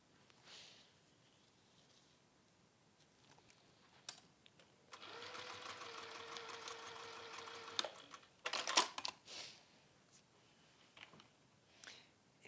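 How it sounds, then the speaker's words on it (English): A sewing machine stitches fabric in one steady burst of a few seconds, set between quiet handling and rustling sounds. "you can just sew that across"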